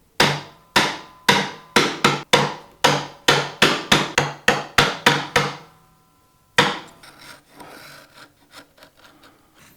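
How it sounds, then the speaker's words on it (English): Sharp, loud mallet blows drive a wide chisel down into wood to cut a tenon shoulder for a Shaker table, about fourteen steady strikes in quick rhythm, then a pause and a softer burst of rubbing and tapping at the close. "we can get the wide chisel, place it in there and hit all the way down to the tenon"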